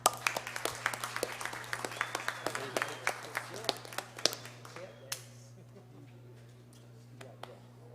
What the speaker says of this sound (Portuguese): eu proponho uma salva de palmas para todos esses figurantes importantíssimos